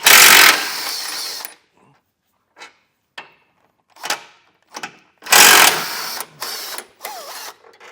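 Two 16mm tow hook bolts being removed from a 2022 Jeep Grand Cherokee with a power tool, loud whirring bursts of an impact or ratchet separated by quiet gaps and small metallic clicks.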